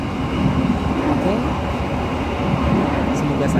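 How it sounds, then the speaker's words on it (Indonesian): Interior rumble of the Airlangga passenger train running, a steady low rolling drone with rattling and air-conditioning hiss throughout, loud and continuous, with a voice speaking faintly underneath. "mencoba untuk naik kereta Airlangga ini ya"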